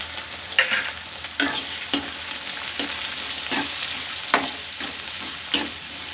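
Onions and green chillies sizzle in a hot pan for an ivy gourd gravy, a continuous frying hiss broken by regular scraping stirs of the spoon, close and moderately loud with no talking.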